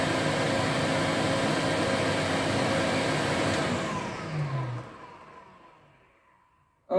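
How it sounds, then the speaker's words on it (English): A brand-new Electrolux Z504 upright vacuum cleaner runs with its motor alone and no brush roller engaged, giving a loud steady whine that then winds down and fades out as it switches off. "this is just the motor running."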